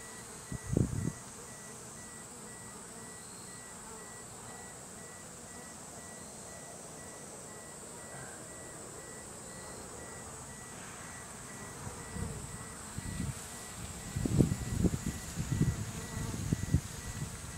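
Japanese Cerana honey bees hum around a freshly split hive, a steady buzzing drone with soft rustling and handling knocks growing busier toward the end.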